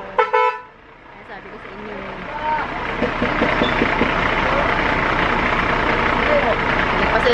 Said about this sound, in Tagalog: Nagpasala muna natin ang truck